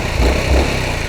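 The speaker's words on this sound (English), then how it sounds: "sound of the exhaust is all the time pretty nice" Honda ADV350 scooter engine and exhaust while riding on the road, a steady mid-pitched drone with low pulsing throbs, close and continuous, mixed with road and wind noise.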